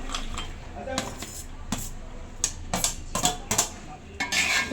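Rice with fried cashews and raisins tipped into a cooking pan for fried rice, a series of close metallic scrapes and spoon knocks against the pan, irregular and fairly loud, with a voice speaking alongside.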